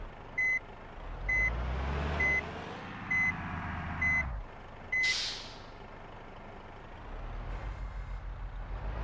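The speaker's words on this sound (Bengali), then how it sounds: "বাসটাকে আমি ঘুরিয়ে নেব।" Bus in Bus Simulator Indonesia reverses with evenly spaced electronic beeps over a droning engine, then turns as the engine drops away, followed by a short hiss of air.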